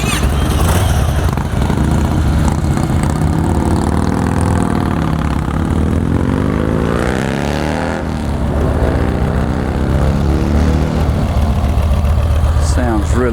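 A Yamaha Stratoliner S belt-drive motorcycle engine runs loud and close, a continuous deep rumble that swells and eases slightly as it idles and revs.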